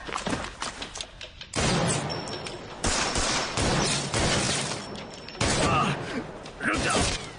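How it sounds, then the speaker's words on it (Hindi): Heavy gunfire in a film shootout, a dense barrage of many shots in loud bursts with brief lulls between, close and harsh across the whole stretch. "इतनी गोलियां क्यों चलाते हो तुम लोग?"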